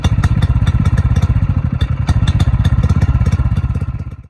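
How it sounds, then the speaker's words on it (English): A one-cylinder cultivator engine runs close up with rapid, even exhaust pops in a bubbly, chugging rhythm, loud and steady until it cuts off at the end. "This is a one-cylinder cultivator engine. The main sound we're interested in recreating is the sort of bubbly high-frequency pop around the"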